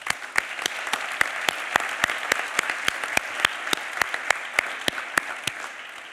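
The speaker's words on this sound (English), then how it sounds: "I applaud you and ask everyone once again to join me in doing so." An audience at a Technion honorary fellowship conferment ceremony applauds, a moderate crowd clapping over a steady background with a few sharp, evenly paced claps standing out near the microphone.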